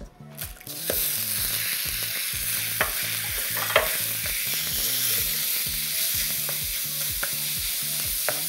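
Pork mince frying in oil in a pan for a ramen topping, a steady close sizzle with a regular scraping rhythm of stirring running throughout, and no voices.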